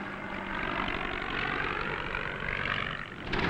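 An old SPAD World War I propeller plane flies past with a loud, steady droning engine roar that holds throughout and swells again near the end, with no voices.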